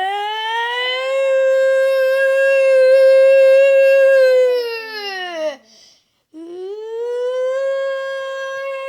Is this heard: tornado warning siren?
yes